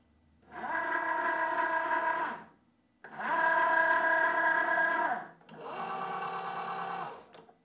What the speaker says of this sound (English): those wheels are going to grab it and pull it right in.